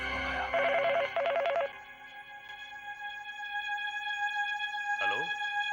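A telephone rings in a Hindi horror audio drama, two short trilling bursts near the start, then a steady electronic drone continues underneath.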